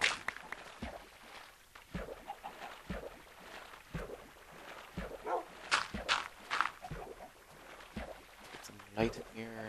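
A dog in the Minecraft video game yips and barks in short bursts amid in-game footsteps and clatter, with a person talking over the sounds throughout.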